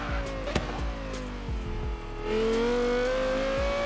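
A car engine in the racing game Forza Horizon 3, set up for drifting, revs and accelerates with climbing pitch amid short bursts of gear changes and tire noise, fairly quiet and without talk.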